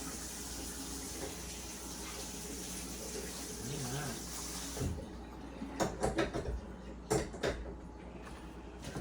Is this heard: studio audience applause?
no